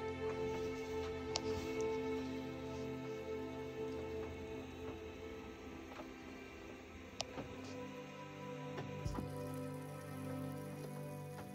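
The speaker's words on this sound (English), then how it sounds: "I think it stopped raining, but the trees are still dripping." Rainwater dripping from forest trees onto the roof of a parked vehicle, scattered taps and occasional sharper plinks over a faint steady background hum, close and quiet with no talk.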